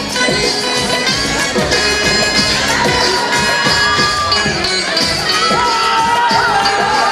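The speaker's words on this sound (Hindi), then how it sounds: "तालियां रुकनी नहीं चाहिए।" A school farewell party audience cheers and claps in a loud, continuous crowd roar, with shouting voices blending over music throughout.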